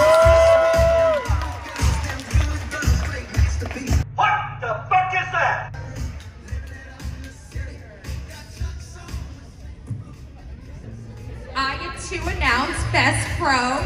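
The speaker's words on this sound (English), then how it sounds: "everybody give her one more round of applause" Crowd at an anime convention cheers, whoops and claps for a cosplayer over pulsing loud music, with shouts rising and falling throughout.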